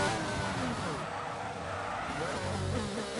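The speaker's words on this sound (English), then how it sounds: "you can hear the tyres scrubbing against the surface as he brakes" Racing car in a sim racing game at an Austria circuit, with a steady loud engine drone and gritty tyre scrubbing as it brakes, under commentary-level background noise.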